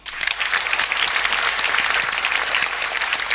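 A church congregation breaks into loud, dense applause during a sermon, the clapping rising quickly and continuing vigorously and evenly to the end.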